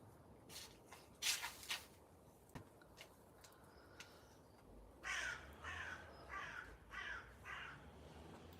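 Crows caw outdoors on a farm, a few scattered calls early on and then a run of about five rhythmic caws, moderately distant and alone with no talk.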